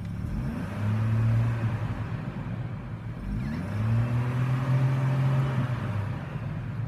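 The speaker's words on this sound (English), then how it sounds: "Let me rev it up for you." A 2003 Chevrolet TrailBlazer EXT LT engine is revved twice while parked, each blip swelling from idle into a rising whine and falling back, heard close and alone.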